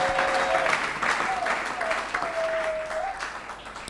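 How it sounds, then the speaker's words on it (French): A church congregation at an Easter service applauds and cheers for Jesus, with sustained, dense clapping and a sung or held voice rising over it throughout. "Acclamez Jésus. Acclamez Jésus."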